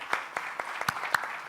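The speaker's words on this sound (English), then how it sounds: "give a second round of applause to our panel" Faint, scattered applause for a panel at a regional health security conference, a handful of separate claps at an uneven rhythm from a small audience.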